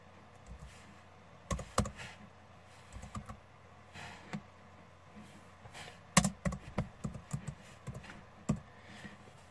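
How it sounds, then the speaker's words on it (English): A computer keyboard is typed on with one hand, giving irregular bursts of close, crisp key clicks separated by short quiet gaps. "Right now, I'm only typing with one hand"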